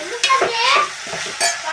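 Broad beans and potatoes fry in a pan while being stirred, a loud steady sizzle broken by several close scraping strokes of the spatula.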